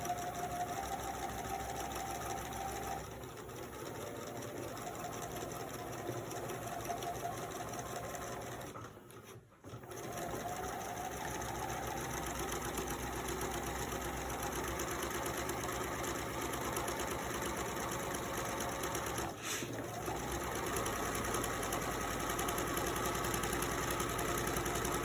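A sewing machine runs steadily and fairly quietly for a long stretch, its fast, even whirring broken by one brief pause, as the side of a pillowcase is stitched.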